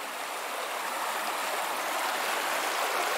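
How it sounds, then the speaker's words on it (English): Steady, broad rushing of a river in the Brecon Beacons near Carn Pica and Waun Rhydd, close and continuous with no pauses and no voices. "Just got down to the river now"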